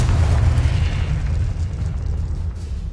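Fiery blasting-spell explosions from the Confringo curse in Hogwarts Legacy, a dense, sustained low rumble of booms and crackling bursts rolling continuously and loudly without pause, with no talking over it.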